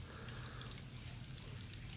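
Battered fish fries in hot oil for fish and chips, a continuous, dense sizzle and crackle that holds steady throughout without pause.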